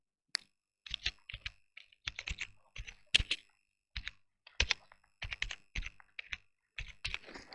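Dummy text typed on a computer keyboard, bursts of quick, crisp key clicks separated by short pauses, close and fairly quiet, no talk.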